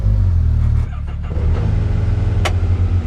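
Close, loud idle and brief revs from a Can-Am side-by-side with a 1-litre turbo three-cylinder engine, a throbbing low rumble that dips briefly and then picks back up.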